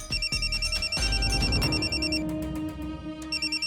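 A telephone rings with a repeating electronic trill over a busy background of music-like tones, moderately loud and steady for several seconds, signalling an incoming call from a lawyer in a Marathi TV drama.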